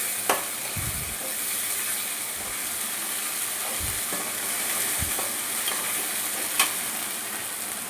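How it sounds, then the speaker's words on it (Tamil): Drumstick leaf thokku sizzles steadily in oil while a spoon stirs it, with a continuous frying hiss broken by a few soft scraping strokes. "தொக்கை பூரா நல்லா நம்மளுக்கு எண்ணெய் நல்லா வதக்கிடுவோம்."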